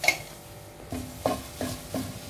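Cumin seeds and curry leaves dry-roasting in a pan for homemade sambar powder, with a few soft stirring scrapes and faint sizzling at a steady pace, close by and quiet, no voices.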